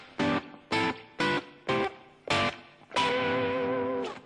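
A guitar plays a sequence of diatonic seventh chords up the scale, five short strummed chords in even rhythm followed by a longer ringing final chord, loud and close with no talking.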